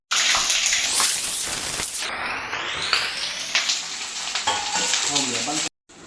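Hot oil in a pan sizzles loudly and continuously while chicken masala is fried, a dense close hiss with a sharp burst as food goes in and faint stirring scrapes, no talking, cutting off abruptly near the end.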